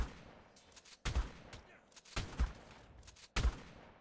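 Sniper rifle shots in Ark Survival Evolved PVP near Snow North, fired at mobs: three sharp, loud reports spaced about a second apart, each with a short echoing tail, with faint game noise between them.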